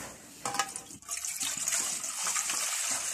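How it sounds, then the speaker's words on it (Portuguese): Water pours into a container meant for chickens on a very cold, icy day, a steady splashing fill that runs on at close range with no talk over it. "Vou colocar a água."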